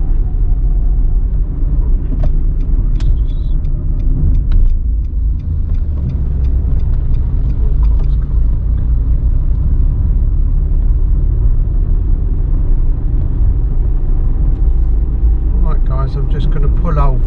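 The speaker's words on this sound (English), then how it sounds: "I'm just going to pull over, let a few cars pass" Cars pass on a coastal road near Dhekelia, Cyprus, as heard from inside a pulled-over vehicle, giving a steady close engine rumble with passing swells, and a person talks over it.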